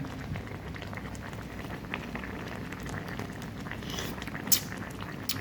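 Fish soup simmers in a pot, giving a faint, steady bubbling and crackling with small irregular pops spread evenly throughout.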